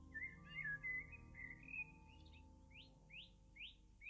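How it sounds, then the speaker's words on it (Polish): Spring birds chirp and whistle nearby, first a warbling run of varied notes, then a series of four or five evenly spaced rising tweets, clear against a quiet background. "Spójrz na ptaki."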